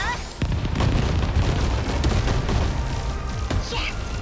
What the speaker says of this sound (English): Alright, multi-lock missiles again.